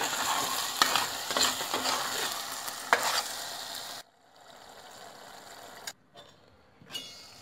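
A spoon stirs meat stuffing in a covered pot as it sizzles and simmers, with scraping sweeps and a few sharper knocks before it quiets down near the end.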